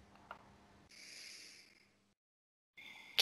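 A person takes slow, deep breaths while settling in to relax: one soft, airy inhale or exhale lasts about a second, then silence, then another breath begins, all quiet and close.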